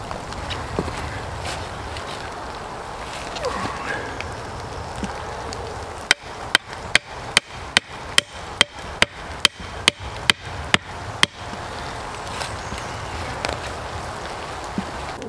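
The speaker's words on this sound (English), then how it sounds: "take my fork stick, I'm going to drive it in next to the fire" A wooden fork stick is hammered into the ground beside a campfire, about a dozen sharp, evenly spaced knocks in quick succession over a soft outdoor background, with quiet rustling before and after.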